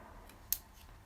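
A single quick scissor snip clips an acrylic nail, a faint, sharp click standing alone against quiet room tone.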